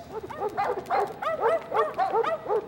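Several dogs bark and yip in quick repeated bursts on an underground train platform, close and fairly loud in a busy overlapping rhythm with no talking.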